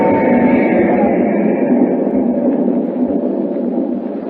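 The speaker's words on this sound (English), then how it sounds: "As the train roars into the night, he and Hu Ling talk softly." Radio drama sound effect of a train roaring through the night, a loud continuous rumbling roar with a steady mid-range drone that eases slightly toward the end, with no voices.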